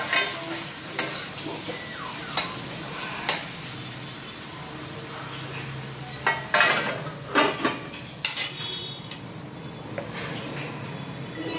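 Beans bhaji frying in a pan with garam masala, stirred now and then with a spoon scraping and clinking against the pan over a steady low sizzle, the stirring strokes sharper and louder in the middle.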